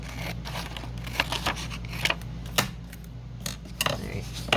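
Scissors cut through vintage book-page paper in several separate snips with pauses between them, close and crisp, over a low steady hum.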